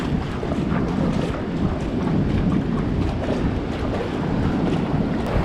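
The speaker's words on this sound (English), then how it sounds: "It's bloody windy." Strong wind buffets the microphone at the ocean shore, a loud, constant roaring gust with heavy low rumble and no letup, nothing else audible beneath it.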